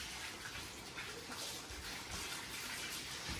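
Water running from a tap, a faint continuous splashing stream with soft gurgles, steady and alone with no talk.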